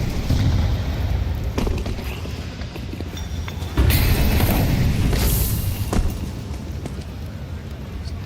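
HE grenades detonating in a Counter-Strike match, heavy booms rising over the steady noise of the game, with one especially loud blast near the middle, while a caster talks throughout.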